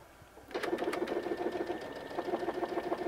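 A Brother DreamWeaver XE sewing machine runs a decorative stitch after a quiet start, giving a close, steady mechanical whir with a rapid rhythmic needle chatter that briefly eases and then picks up again.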